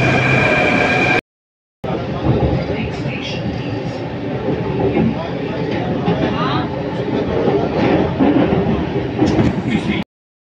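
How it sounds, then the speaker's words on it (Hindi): A Delhi metro train pulls into the station with a loud sustained rumble and rattle of wheels and cars, continuous and close, briefly cut by a gap of silence near the start, with people talking faintly throughout. "हमारी मेट्रो आ गई है, अब जल्दी से पहुंच जाऊं"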